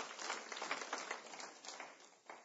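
A congregation claps loudly and steadily at a church service in praise, the dense applause slightly thinning out toward the close.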